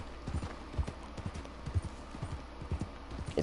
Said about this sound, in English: I'll just ride my horse.